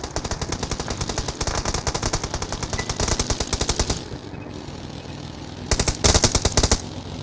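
Rapid automatic gunfire in the mobile battle-royale game PUBG Mobile, loud and close, with sustained bursts of closely spaced shots, a brief pause, then another sharp volley.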